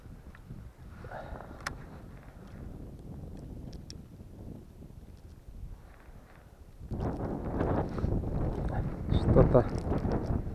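Wind gusting across a frozen lake during a pre-New Year snowstorm while ice fishing, buffeting the microphone softly at first and then roaring louder and rougher toward the end, with a voice under it.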